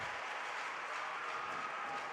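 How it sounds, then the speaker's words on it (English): Applause rises from the stands at a hockey arena during a ceremony and puck drop honoring a former coach, a steady broadband patter held evenly throughout at a moderate, somewhat distant level. "And some applause coming down for Lopez."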